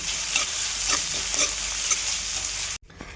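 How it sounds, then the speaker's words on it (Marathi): Tomatoes sauté in a pan, a loud steady sizzle broken by rhythmic scraping strokes of the spoon, cut off abruptly near the end. "तर टॉमॅटो अगदी थोडा वेळ परतायचं थोडंसं मऊ होऊपर्यंत"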